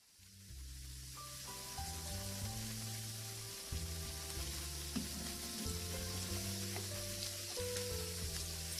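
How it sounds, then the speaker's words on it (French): Fish frying in hot oil, a steady close sizzle that carries on throughout, with a faint tonal hum underneath. "Et on va frire aussi le poisson."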